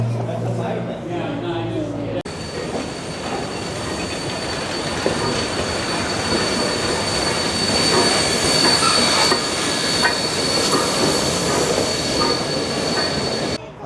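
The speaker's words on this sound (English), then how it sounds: "It's the steam train, which is slower." A slow steam train rolls along rails with a steady, loud rumble and grinding wheel squeal, a sustained high metallic whine running through most of it after a brief stretch of muffled voices at the start.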